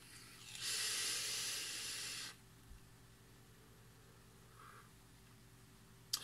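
An Uwell Crown IV vape fired at 65 watts lets out a soft, steady hiss of vapour for about two seconds, then stops, leaving quiet background hum.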